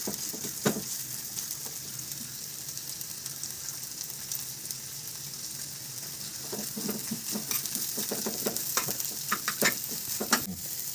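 Wild kartoli (spiny gourd) vegetable dry-roasting in a pan without tempering, a steady broadband sizzle with occasional scraping stirs, growing more frequent toward the end.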